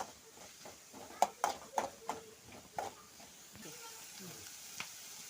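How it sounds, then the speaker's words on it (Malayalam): Chopped onions wilt in a hot pan for ivy gourd pachadi, with a soft steady sizzle beneath a string of sharp utensil clacks and scrapes as they are stirred, fading to a quieter hiss. "ഇനി നമ്മൾ സവോള ഇട്ട് ഒന്ന് വാട്ടാൻ പോവാണേ"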